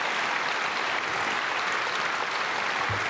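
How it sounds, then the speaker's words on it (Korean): A church congregation applauds for visiting pastors and elders from a regional presbytery during a dawn prayer service at Myungsung Church. The clapping is steady, dense and even, filling the room from start to finish with no voices over it. "박수하겠습니다."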